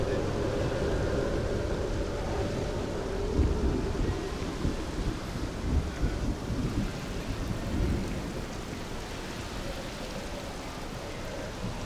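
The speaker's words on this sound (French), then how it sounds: "Ah tiens, il y a de l'orage." Thunderstorm in the video game Starfield: a steady wash of rain with low rolling thunder rumbling throughout, loud and continuous, with a possible faint voice underneath.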